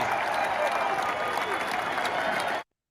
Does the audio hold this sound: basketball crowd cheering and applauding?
yes